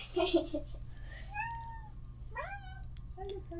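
A cat meows several times, short close calls with quiet gaps between them over a faint background hum.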